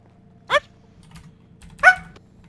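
A pair of dogs passing by, two short sharp barks or yips about a second apart, fairly close, over a low steady background hum.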